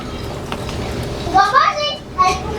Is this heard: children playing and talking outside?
yes